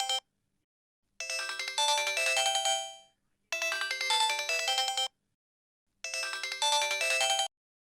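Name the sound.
phone ringtone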